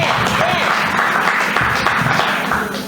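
Audience applause at a live performance event, a steady wash of clapping mixed with crowd noise and a voice over it, loud and continuous for a few seconds.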